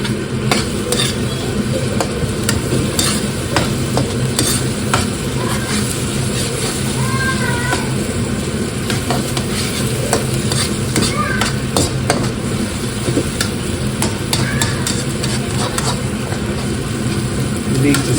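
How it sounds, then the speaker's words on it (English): Chopped onion stirred and browning in a hot pan for a village-style spicy lamb curry, a steady sizzle with scraping utensil strokes running continuously, close and fairly loud. "Keep stirring for about 3 minutes to brown off the onion"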